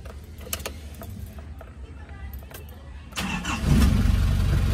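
Nissan Escapade being started after an ignition contact repair: quiet clicks and rustling, then the engine cranks and catches at about three seconds and settles into a loud idle, with a voice speaking briefly.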